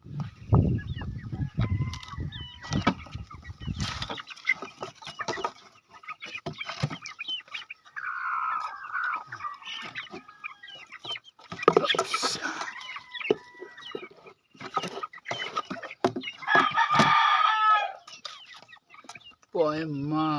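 Chickens cluck and a chick peeps nearby on a farm as a young chick with swollen eyes is carried outside, bird calls scattered throughout with a clear chirping burst near the end and some background noise.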